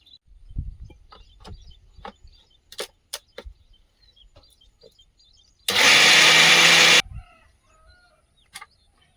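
An electric grinder churns spice paste with water in one loud, harsh whirring burst of about a second, set among sparse kitchen clinks and knocks.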